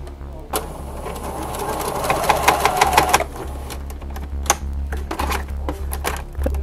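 Sewing machine stitching a quarter-inch seam along the 9-inch edge of a Christmas stocking, a fast, steady mechanical rattle running in bursts with brief pauses, close and fairly loud, no talk.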